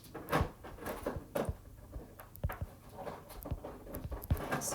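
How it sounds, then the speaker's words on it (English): Irregular crinkly crunches and plastic pops as a dog gnaws on an empty plastic milk jug nearby, with soft scraping in between. "That would be Teddy chewing on an empty milk jug"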